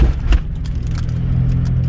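S10 Blazer rolling at about 20 mph, a steady low engine and road rumble that holds evenly throughout, with a brief rattle near the start and no talking.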